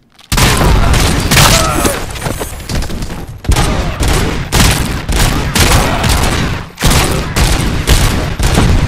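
Gunfire in the video game Robocop Rogue City during the Old Man boss fight, dense loud continuous bursts of shots and booming impacts with brief pauses, and a voice shouting over the din.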